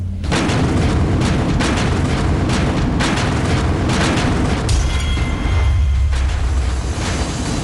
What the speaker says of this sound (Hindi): 20 सेकंड में भारत ने पाकिस्तान की चौकियों पर दे दनादन 11 गोले बरसाए